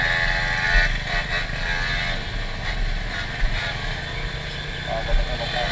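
A motorcycle engine runs close by while riding, its steady buzzing drone with small throttle pulses carrying on throughout, under people talking.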